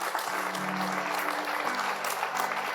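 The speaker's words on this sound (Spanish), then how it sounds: "Dele un fuerte aplauso a nuestro Señor Jesús." A church congregation applauding, with dense sustained clapping from a crowd filling the room at even loudness. A faint voice can be heard underneath.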